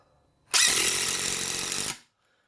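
A 20-volt 887 impact driver drives a screw in one loud, steady burst of whirring and rapid hammering that lasts about a second and a half, then stops abruptly.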